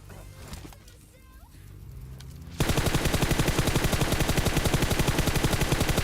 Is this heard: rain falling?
no